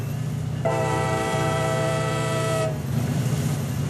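A train horn in the Rails Unlimited video game sounds one loud, steady blast of about two seconds, sounded at a level crossing over a low, continuous rumble of the train.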